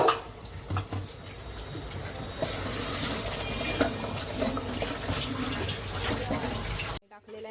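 Water pours into a pan of fish curry with ground masala and released oil, making a steady splashing rush for about five seconds before it stops abruptly.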